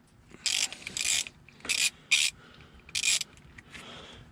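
A ratchet wrench clicks off 10 mm bolts on a 2001 24-valve Cummins engine: short bursts of rapid ratcheting, about seven quick strokes with pauses between, close and crisp.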